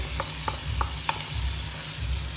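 Mutton pieces searing in a pan with ginger-garlic paste, a steady low sizzle and hiss broken by a few light clicks of a spoon stirring the meat, close and continuous with no talking.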